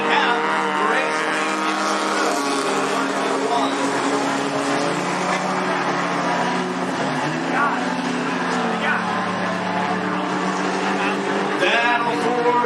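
Race cars roar around the dirt oval at Cottage Grove Speedway, a steady loud engine drone from several cars battling for position, with a commentator talking over it throughout.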